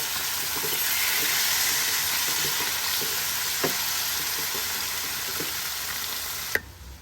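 Meat frying in a little hot oil in a very hot pot, a steady close sizzle and hiss with occasional soft clicks and scrapes of stirring and one sharp knock near the end.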